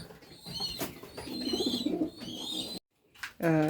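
Racing pigeons coo in low, throaty rolling calls close to the microphone, several bursts, then a brief silence and a final loud coo.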